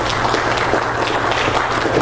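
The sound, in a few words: congregation hand clapping in praise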